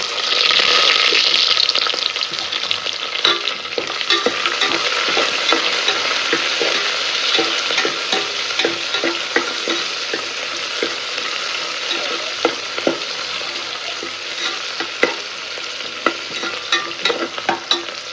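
Kasuri methi and onion frying in a pan for dhaba-style mushroom biryani: a loud burst of sizzle at the start settles into steady, crackling frying with frequent stirring scrapes and taps, no voices.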